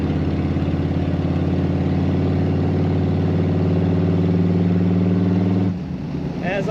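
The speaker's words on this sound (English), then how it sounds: "That late model engine, lots of power, a great sound" LS engine in a 1959 Chevrolet Impala four-door flat top idling, a loud steady close rumble with rhythmic low throb that cuts off near the end.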